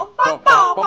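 A person's voice imitates a chicken clucking in a few quick, close, loud bursts within a second during a playful karaoke show segment.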